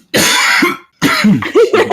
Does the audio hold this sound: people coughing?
yes